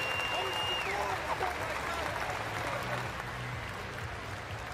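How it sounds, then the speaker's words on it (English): Ice hockey crowd at a preseason game applauding a player leaving the ice: steady, dense clapping from a large arena audience throughout, with a commentator's voice over it. "Crowd gives a nice hand."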